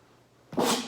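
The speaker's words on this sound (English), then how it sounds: "gotta sneeze" One sharp, loud human sneeze bursts out suddenly after a quiet moment, close and unaccompanied by talk.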